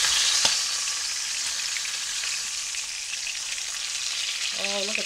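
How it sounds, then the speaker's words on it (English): A beef roast searing in a pan for a Mississippi pot roast, a dense, steady sizzle close up like light rain, with a brief voice near the end. "I'm going to let that sear for about 4 to 5 minutes until it's nice and browned"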